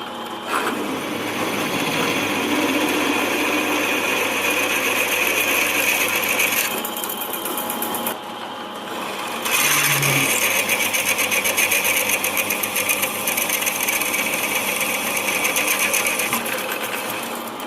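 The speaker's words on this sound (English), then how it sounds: "So the next job is to drill those holes out" A power drill whirs continuously at high speed, drilling holes in metal for a motorbike engine stand, with a steady buzzing drone, briefly easing off midway before resuming, loud and close.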